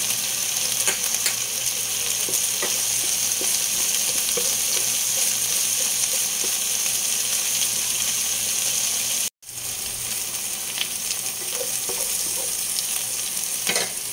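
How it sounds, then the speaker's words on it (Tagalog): Ginger frying in a pan for a simple home-cooked dish, a steady loud sizzle holding for the whole stretch, with faint stirring scrapes and one brief break near the end. "Lagay ko na rin yung luya."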